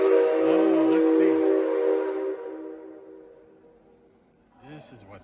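A miniature train diorama at a railway museum sounds a steady, sustained whistle tone for about two seconds, which then fades out. A brief voice follows near the end.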